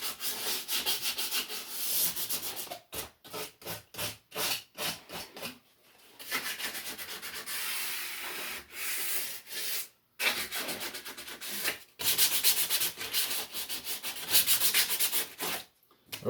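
Hand sanding of wood with sandpaper for a shaving horse build, a steady close scratchy rasp in quick back-and-forth bursts that turns into longer continuous strokes, with brief pauses between runs.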